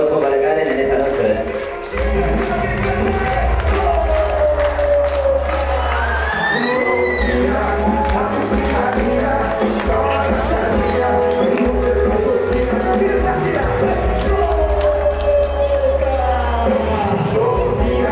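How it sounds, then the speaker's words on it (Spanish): A crowd cheers and claps for Karen at an evening event, a loud, continuous roar with whoops and shouts that holds the whole way through. "Aplauso para Karen en esta noche"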